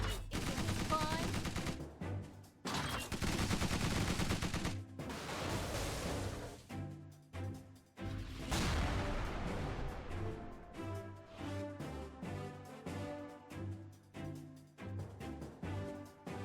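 Gunfire and artillery from units in the Tiny Metal strategy game, with dense bursts of rapid shots and booms alternating with brief gaps, loud and continuous over a game soundtrack.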